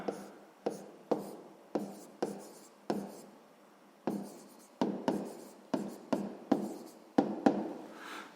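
Pen strokes on paper come as short scratchy bursts at a steady, irregular pace, each stroke a close, crisp scrape followed by quiet, during a sixth-grade math exercise.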